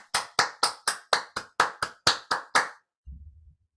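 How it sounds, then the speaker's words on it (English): At a Toastmasters meeting, about ten crisp, evenly spaced claps ring out close to the microphone in a brisk rhythm, then stop, leaving a short low thump. "be ready to offer some applause right out of the gate"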